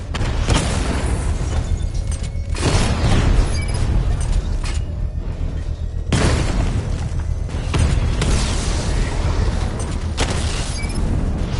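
Heavy booming blasts and rumbling detonations from a device exploding in the video game Batman: Arkham Knight, loud and sustained with repeated surges and a low roar throughout, no talking.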